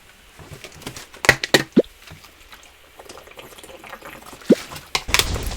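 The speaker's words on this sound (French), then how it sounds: "Je bois un peu d'eau." Liquid sounds while a person drinks water, with a few sharp drips and small splashy gulps in short bursts, close and fairly quiet with gaps between.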